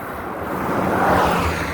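Sea waves at the shore in Jizan, Saudi Arabia, a continuous rushing surf that swells slightly midway, mixed with wind buffeting the microphone.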